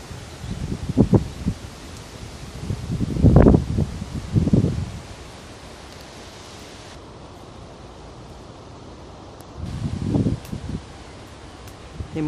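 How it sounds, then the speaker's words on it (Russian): Wind rustling through green foliage at a park rest spot in Lipetsk, with soft breathy gusts swelling and fading several times over a quiet, hissy outdoor background. "шумит ветер."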